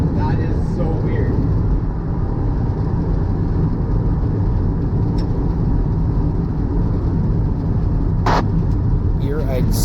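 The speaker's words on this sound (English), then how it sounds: "Here I started up the rear engine so I could actually like move the car under its own power" The rear engine of the SUICIDEMX3, a modified car with its front locked up, runs steadily as the car moves under its own power, a loud continuous low drone filling the whole stretch with brief sharper bursts near the end.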